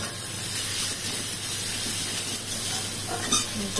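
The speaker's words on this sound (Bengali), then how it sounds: "ভেজে নিচ্ছি, ধনে জিরে গন্ধটা যাতে চলে যায়" Chicken masala with Kashmiri chili powder and hot chili powder fries in a pan, giving a dense, steady close sizzle and hiss with faint stirring scrapes, no voices.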